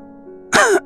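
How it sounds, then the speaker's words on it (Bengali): A character in a Bangla audio drama coughs in two short, harsh bursts over a quiet, low hum, sounding choked and breathless. "লিখতে লিখতে তার কাশি শুরু হলো, দম আটকে আসছিল।"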